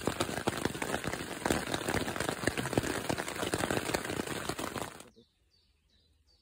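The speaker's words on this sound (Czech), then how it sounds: "Nevím, jestli mě slyšíte, ale prší kurva." Rain falling on tents at a campsite during a multi-day hike, a dense close patter of drops drumming on the fabric that continues for several seconds and then cuts off abruptly into near silence.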